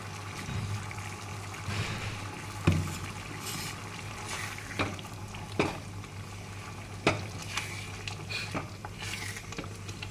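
Chickpea dal simmering in a pot with salt and fried spices added, a soft continuous bubbling broken by a few sharper pops and occasional clinks, moderately quiet and steady throughout.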